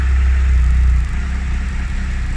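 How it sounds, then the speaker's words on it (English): A Triumph Tiger 1200 Alpine motorcycle's three-cylinder 1200 engine, fitted with an Arrow exhaust, idles close by with a steady low throb and a faint mechanical whir, heard alone. "That legendary 1200 three-cylinder engine, absolutely bulletproof, giving you oodles of torque and smooth power."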